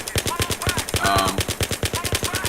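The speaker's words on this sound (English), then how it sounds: "I'm just gonna go ahead and use this gun" Rapid, evenly spaced bursts of PDW gunfire from the video game Battlefield 3 rattle out loud and close in a sustained automatic stream, with a slower-firing weapon's steady rhythm and no talk over it.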